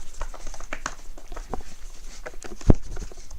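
A pet rabbit thuds and patters in the background in irregular soft knocks, scuffles and taps, with one sharper, louder thump near the end, all moderately close.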